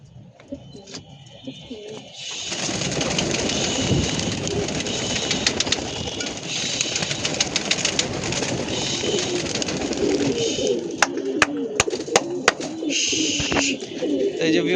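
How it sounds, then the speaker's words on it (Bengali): Young pigeons coo and flutter on a rooftop, making soft repeated cooing and wing flaps over a steady background hum, with a few sharp clicks near the end. The birds sound fairly close and continuous. "তো চলেন কবুতরের বাচ্চাগুলো উড়াই"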